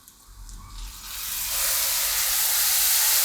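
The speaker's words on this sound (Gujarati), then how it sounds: "લાલ મરચું નાખીને તરત આપણે એમાં ગ્રેવી નાખી દેવું" Gravy poured into hot oil seasoned with red chili, turmeric and coriander-cumin for an onion-tomato curry, a quiet start swelling into a steady, loud hiss of sizzling steam that holds to the end.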